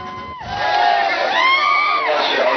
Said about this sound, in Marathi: या विजयी जल्लोष गुलाल उधळत कार्यकर्त्यांनी केलेला एका ठिकाणचा आपण पाहतोय